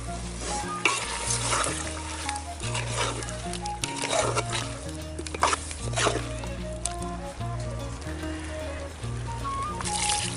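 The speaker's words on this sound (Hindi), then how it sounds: "अब इसमें ग्रेवी के लिए पानी डालेंगे।" Village-style pork curry sizzles and bubbles in a pan as water is added for gravy and stirred, with steady frying crackle and scraping stirs throughout, accompanied by soft background music.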